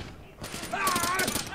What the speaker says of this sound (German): Ich hab dem einen Kopfschuss gegeben.